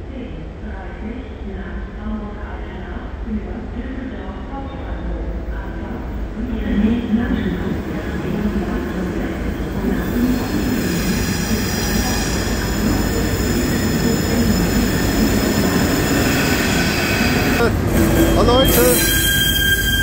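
A TRI special train hauled by a class 110 electric locomotive rolls into Köln Hauptbahnhof. Low rumbling wheels build to loud, sustained flange squeal, with a brief shout and station noise over the arrival.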